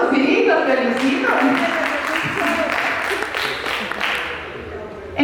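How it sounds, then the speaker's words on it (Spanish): Audience applause in a meeting room at an event on leadership in pig-farming organizations, a dense, steady wash of clapping lasting several seconds that tapers slightly near the end, with voices mixed in. "Un aplauso, sí, los felicito."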